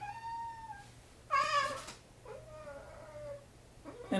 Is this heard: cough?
no